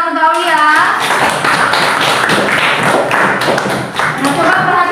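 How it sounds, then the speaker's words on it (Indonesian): Classmates clap for a student in a classroom, a dense burst of many hands filling the whole stretch with a brief dip near the end, while voices talk over it. "Beri tepuk tangan untuk Aulia."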